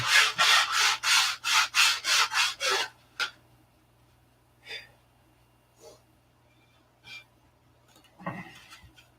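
Rapid, rhythmic scraping strokes of sandpaper on wooden aircraft fuselage joinery, about ten in quick succession, then scattered quieter rubs and taps with pauses between.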